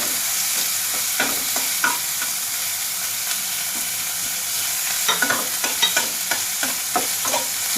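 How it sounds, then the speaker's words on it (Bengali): Onion, ginger and tomato masala fries in a pan with a steady loud sizzle. A spatula stirs it with soft scraping taps that come in small clusters, close up with no talk. "মশলাটাকে কিছুটা সময় কষিয়ে নিচ্ছি।"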